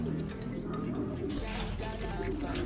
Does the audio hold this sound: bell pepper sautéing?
no